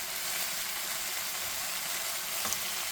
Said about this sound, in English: Every few minutes, flip them around until they're fully cooked.